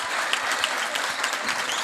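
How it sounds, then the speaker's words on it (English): A basketball crowd in a high school gym claps and cheers, a dense, steady patter of applause with scattered louder claps, heard at moderate distance. "The crowd getting into it."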